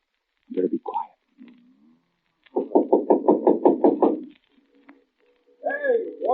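A rapid run of about a dozen knocks on a door in an old suspense radio drama, close and fairly loud in a quiet room, between brief murmured voices.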